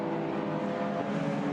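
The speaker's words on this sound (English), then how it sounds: "Opel Kadett coming through" Opel Kadett coupe race car at the Nürburgring 24h classic race, a steady mid-pitched engine drone passing at moderate distance, brief and fairly faint, with no voices.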